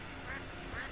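Ducks quack in the modded Skyrim video game, two short quacks spaced apart, fairly faint and muffled under a steady background wash.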